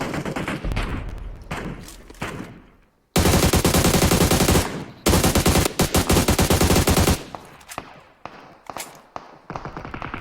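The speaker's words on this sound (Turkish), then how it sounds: "Her taraftan sıkıyorlar ya" Video game gunfire, loud sustained automatic bursts with rapid repeated shots, broken by brief pauses and scattered single shots, close and dominant throughout.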